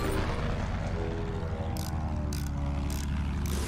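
A propeller airplane in the video game Battlefield 1 roars overhead with a loud, steady engine drone that fills the whole stretch, with gunfire-like pulses breaking through in its second half.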